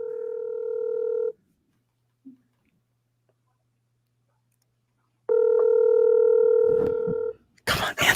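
Telephone ringback tone heard while calling a number in a bar: a steady two-tone ring lasting over a second, a long silent gap, then a second ring, followed by brief loud noise.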